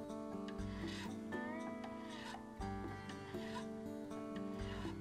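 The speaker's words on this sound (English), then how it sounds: "So this file allows me to just shave the sides of it off." A metal file shaves the sides of acoustic guitar frets during a fret dressing, making soft, close rasping strokes in an even rhythm beneath faint musical tones.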